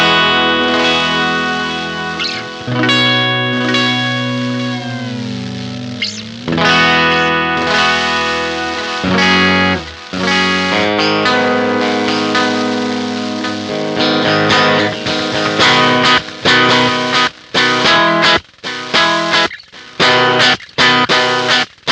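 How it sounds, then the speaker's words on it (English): Swampwitch delay pedal at a long delay setting, dense sustained guitar tones smeared with repeating echoes and a growing lo-fi noisy haze, loud and continuous with no voices. "we can still push it to be a longer delay, and what's going to happen is it's actually going to continually introduce more noise or like lo-fi-ness"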